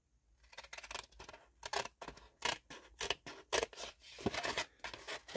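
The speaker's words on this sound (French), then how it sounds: "Il n'y a plus qu'à couper ici." Scissors cut a paper tag card in a close, steady series of crisp snips, roughly a dozen strokes with brief pauses between them and no talking.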